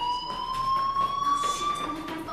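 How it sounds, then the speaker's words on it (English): Electronic fire alarm ringing in the video game Life is Strange, a steady high pitched tone held throughout at moderate level with faint background noise. "do you hear that fire alarm?"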